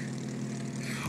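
Propeller airplane in the video game It Takes Two, a steady droning engine hum held at even loudness throughout, with no voices.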